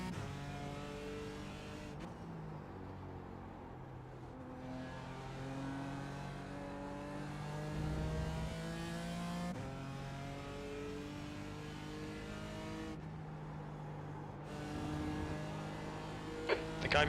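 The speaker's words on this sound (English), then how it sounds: "One thing I don't like about the M4 though is downshifting. The revs have got to be so low sometimes." In the iRacing game at Daytona, a BMW M4 GT3 race car's engine climbs steadily through the gears with sharp upshifts every few seconds and a constant loud whine, under faint talk.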